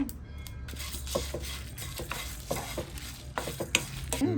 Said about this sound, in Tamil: இவ்வளோத்தையும் போட்டு நல்லா வறுப்பேன்